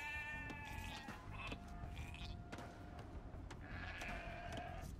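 Sheep bleating in the Age of Empires 2 game, several short wavering bleats overlapping a busy layer of game effects, with a final drawn-out bleat near the end.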